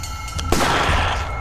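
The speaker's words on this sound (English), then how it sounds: "Yep, 4 shots." Gunfire in a horror video game, a sharp report followed by a dense burst of shots, loud and close with no voices.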